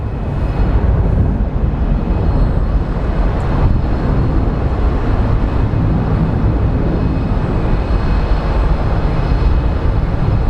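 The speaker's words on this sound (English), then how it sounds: "this plane is about to push back" Airliner parked at the gate at Sky Harbor International Airport before pushback, a steady loud broadband roar of engines or ground power with a constant rumble throughout and no pauses.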